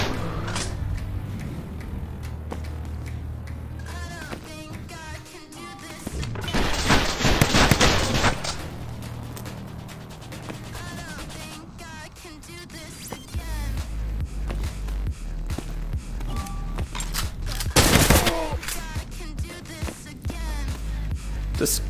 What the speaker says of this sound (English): Casually shooting some bad guys